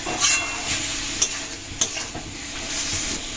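Meat for a chicken Mughlai paratha stirred and fried in a wok, a steady close sizzle with scraping stirs and a few sharp clanks of the utensil against the pan, no talking.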